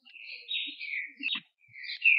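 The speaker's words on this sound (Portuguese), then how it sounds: "resolver o problema desse passarinho aqui que fica perturbando nos nossos vídeos" A small bird chirps in quick bright bursts near a workshop where a manual transmission is being serviced, several short tweets close by with no talk.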